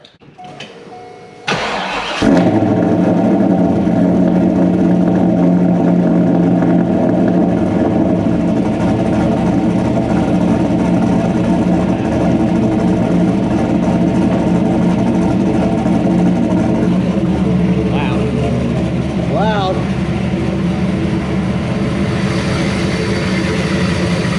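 A car engine cranks and catches, then settles into a steady, loud idle that runs evenly for over twenty seconds with no revving.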